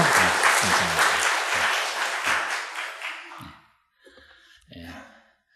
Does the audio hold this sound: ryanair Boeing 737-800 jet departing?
no